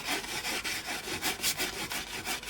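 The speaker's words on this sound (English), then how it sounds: "And I always like to give mine a good old rub" Hands rub back and forth along a glued wooden flying plank model without fins, a steady loud abrasive scrubbing in repeated strokes, close and alone.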